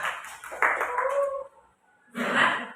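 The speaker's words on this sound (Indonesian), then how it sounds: "tepuk tangan dulu buat kalian semua" A classroom group gives a short burst of hand clapping, close and lively, then falls briefly quiet before a second round of claps mixed with voices.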